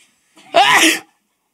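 One loud, close sneeze bursts out sharply and fades within half a second, alone after a brief quiet breath.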